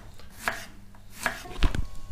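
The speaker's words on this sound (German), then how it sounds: "Ich muss nur noch mal kurz die Zwiebeln klar machen hier." A knife chops onions on a cutting board, with a few sharp distinct knocks followed by a quicker cluster of heavier thuds, close and dry, with no voices.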